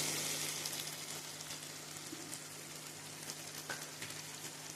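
Ridge gourd curry in hot oil gives a steady, dense sizzle with faint scrapes and clicks of stirring, close and continuous, with no talk.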